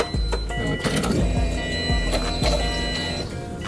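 An AEM fuel pump in a Subaru WRX STI being built up with a big turbo hums and whines steadily for several seconds, close and loud, with faint clunks along the way and no talking.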